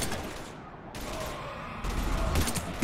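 Dense bursts of automatic gunfire in the sci-fi shooter game Mass Effect 3, loud rapid rattling fire rising and falling in waves with short gaps, close and continuous.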